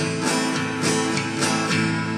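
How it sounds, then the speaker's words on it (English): Eight even strokes are strummed on a guitar, each at the same loudness with no accents, making a short, steady run of ringing chords with no voices. "So let's say if you were to play these 8 strokes without putting stress on any of those strokes"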